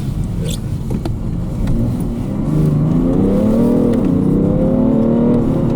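A 2017 BMW 335d M Sport four-wheel-drive diesel car driving and accelerating with smooth gear changes, a loud continuous engine drone whose pitch rises and shifts as it pulls through the gears, with no talk.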